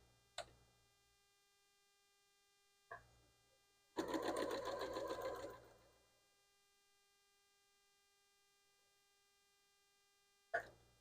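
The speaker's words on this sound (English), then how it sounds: "I'm going to sew those together." A sewing machine stitches paper-pieced quilt pieces for a tall house block in one short, steady burst of about two seconds, with a few isolated clicks before and after against a quiet mains hum.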